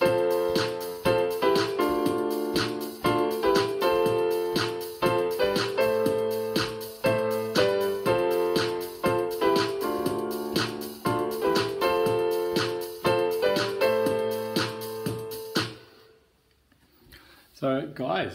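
Keyboard playing a left-hand part and a right-hand part together, a steady rhythmic stream of repeated chords and bass notes lasting most of the passage before cutting off into near silence.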